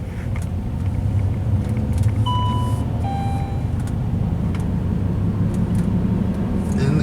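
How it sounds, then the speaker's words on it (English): Saab car with a worn wheel bearing driving along a road, a loud steady low rumbling drone of road and bearing noise throughout, with faint brief tonal whines and no talking. "Now I definitely hear a little bit of wheel bearing noise on this one."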